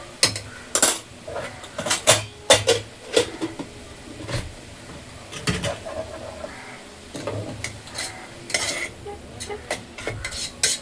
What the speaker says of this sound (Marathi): मिक्स करायचं चांगलं.